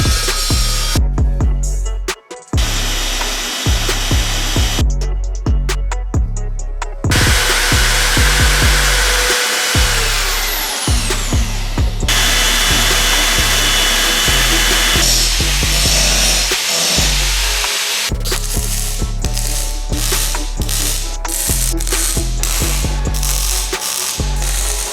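A power tool cuts through quarter-inch scrap steel for an offroad diff cover on a Land Rover Discovery build, loud and close with harsh continuous grinding broken by several short pauses and restarts.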